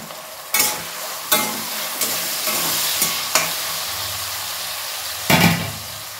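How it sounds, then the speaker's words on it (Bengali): Carrots frying in ghee and oil in a pan, a constant close sizzle broken by several sharp bursts as pieces are stirred or moved, roughly five distinct surges over the steady crackle. "দেখো বন্ধুরা, গাজরটা ভাজা হচ্ছে,"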